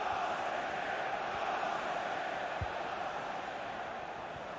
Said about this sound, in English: The crowd have played their part. Just listen to them.